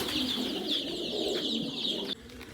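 Chicks being herded inside make a continuous soft cooing and peeping chorus, close and steady for about two seconds before it drops to a quieter level.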